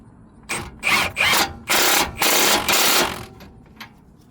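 Power tool tightening a tie rod on a 2016 Mercedes CLA 250, five loud close bursts of motor whir in quick succession, each lasting under a second, with short pauses between and no talking.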